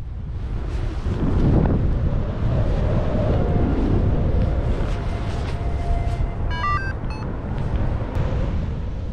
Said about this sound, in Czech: Fouká celkem vydatně